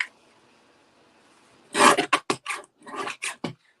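A paper trimmer cutting a piece of white card for a stamping craft project, a quiet pause followed by a series of short, close scraping and slicing strokes in quick succession.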